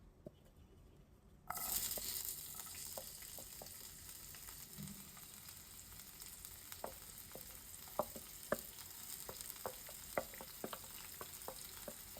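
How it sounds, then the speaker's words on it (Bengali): Onion frying in hot oil in a pan, a steady sizzle that starts abruptly and keeps going, with scattered sharp crackles and pops throughout and no voices. "পেঁয়াজটা ভেজে নেব দেখাচ্ছি"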